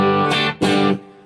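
Clean electric guitar played straight into the amp with no pedal, two sustained strummed chords ringing out close and clear, the second fading at the end.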